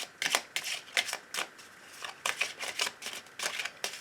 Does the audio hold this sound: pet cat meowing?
no